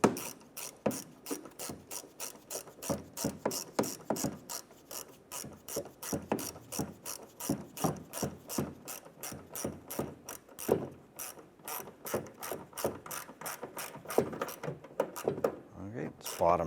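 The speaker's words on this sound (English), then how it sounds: "Let's go ahead and snug all these down." Ratchet wrench tightening bolts on a 2015-2020 Cadillac Escalade during washer reservoir replacement, a steady run of rapid close clicks continuing for many seconds with brief pauses, a voice speaking over parts of it.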